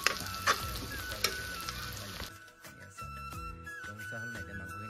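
Onions, ginger and garlic fry in a pan for a duck dish, giving a soft, continuous sizzle with some stirring, fairly quiet and close.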